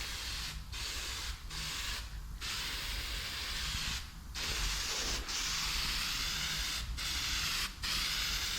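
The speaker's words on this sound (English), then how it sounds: "So I'm gonna spray this, take all the plastic off" Black spray paint hisses onto the body of a 1968 Fiat 500, coming in long continuous bursts separated by short gaps as the trigger is released.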